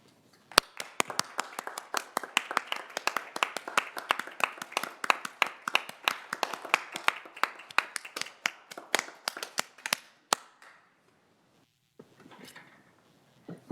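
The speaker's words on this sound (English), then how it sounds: "I'd like to just have a little round of applause for everybody" Applause at a county board meeting, a small group clapping steadily for about ten seconds in a quiet room, then stopping abruptly, followed by a brief faint rustle.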